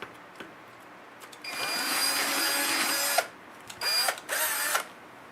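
A power drill bores a 3/8-inch hole with a close, loud whine lasting nearly two seconds, then two shorter bursts after a brief pause.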